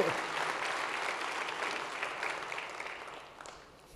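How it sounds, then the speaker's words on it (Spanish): A church congregation applauds after a sermon, a dense wash of clapping that holds steady and then fades toward the end, moderately close and alone without speech. "Vamos a darles un fuerte aplauso, un agradecimiento."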